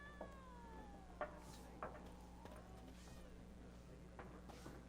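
A cat in the video game The Witcher 3: Wild Hunt gives several soft, brief meows spread over a few seconds, faint against a low steady background hum.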